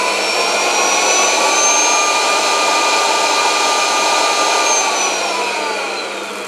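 The motor of a V! AC ChopBox powers on with a steady, loud whirring whine like a hair dryer. It holds constant for several seconds and then eases off slightly at the end, with no talking.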